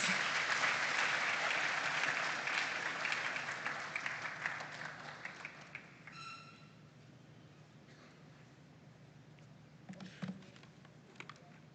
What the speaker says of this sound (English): a round of applause for him whilst he mounts the stage